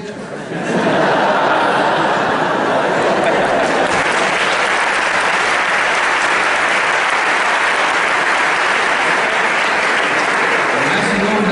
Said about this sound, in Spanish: merece más de un aplauso que el que acaban de darle ustedes